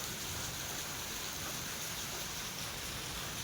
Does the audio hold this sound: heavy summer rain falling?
yes